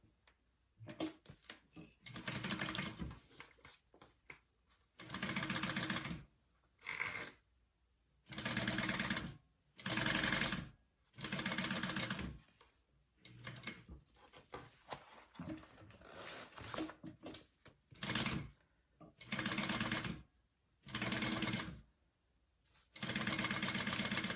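A sewing machine top stitches a seam on a shoulder bag, running in steady whirring bursts of a second or two separated by short pauses, close and clear with no talk.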